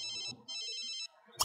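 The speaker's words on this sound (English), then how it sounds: "Should we answer the phone?" Electronic phone ringtone in The Sims 3 Island Paradise, two bright tonal ringing bursts in a row, loud and alone, followed by a short chime.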